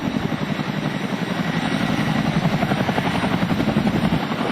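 An MH-47E Chinook helicopter hovers during a rope-insertion demonstration at a joint services open house, its twin rotors producing a loud, steady, rhythmic thumping chop that never lets up.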